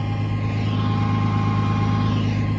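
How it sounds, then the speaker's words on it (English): Diesel engine of a rollback tow truck running a regeneration cycle, a steady loud low idle drone with a constant mid-pitched whine held throughout, close by and with no talk. "My truck decided now is an appropriate time to run a regen"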